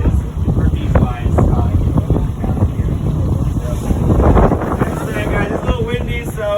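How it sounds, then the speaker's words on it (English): Strong wind buffets the microphone on an island at Ponce Inlet near Daytona, Florida, with a constant low roar and gusty rumble, while people talk faintly beneath it. "Guys, it's a little windy, so just bear with us."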